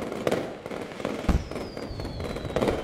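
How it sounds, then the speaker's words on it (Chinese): Firecrackers going off at midnight, with a rapid, irregular series of sharp pops and bangs, one heavier boom, and a faint whistling trail among them. "零点的鞭炮声把张小兰惊醒"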